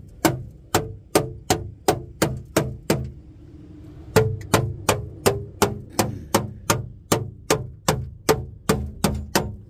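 A hammer pounds the metal spare tire well of a car in a fast, even series of ringing strikes, one short burst, a brief pause, then a longer steady run, loud and close.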